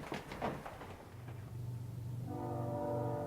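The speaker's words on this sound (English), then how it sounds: "Train, called it." A train rumbles past with a low, steady roar, then its horn sounds in a sustained, loud multi-tone blast over the rolling noise near the end.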